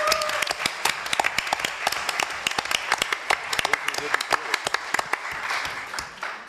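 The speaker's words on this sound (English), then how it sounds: "And I would like a big applause for Wilfried." Audience applause for a film maker at a debate, a room of people clapping with distinct, irregular individual claps audible over a steady bed, moderately close, tapering off near the end.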